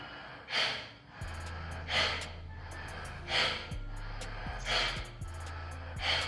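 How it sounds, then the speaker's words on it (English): Quick forceful breaths drawn in and pushed out through the nose with the mouth closed, as a breathing exercise. About five sharp, evenly spaced bursts sound close and clear over a low steady hum, with no talking. "Fast breathing, only from nose, mouth closed, and you have to feel the air in your chest."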